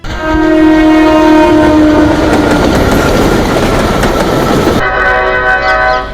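A train rolling along with a long loud horn blast up front, then steady rumble and clickety-clack close by, with a second horn tone near the end and no talking.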